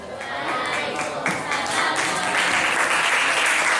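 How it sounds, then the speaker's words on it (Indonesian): An audience applauds at the close of a classroom teaching-practice presentation, a steady wash of clapping filling the room at moderate level, with faint voices mixed in. "tepuk tangan ya"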